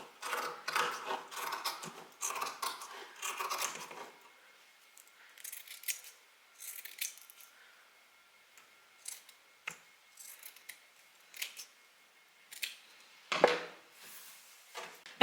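Scissors snip through fabric to trim a narrow seam allowance on a sewing project, giving a series of close, crisp cuts in short bursts separated by quiet pauses, with no talk.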